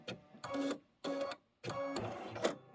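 An embroidery machine stitches the head string on a Kimberbell Halloween pillow, running in three bursts of rapid mechanical whirring, each about half a second, with short pauses between them, close up.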